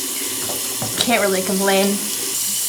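Water runs from a bathroom sink tap while someone washes their face, a steady splashing stream throughout, with brief splashy bursts and a person speaking over it near the middle.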